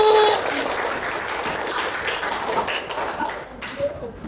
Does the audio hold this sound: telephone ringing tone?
no